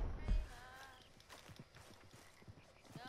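Horse hooves clip-clopping toward the listener in Red Dead Redemption 2, a soft steady beat of footfalls at moderate distance, quiet and slightly muffled, with a low thump near the start.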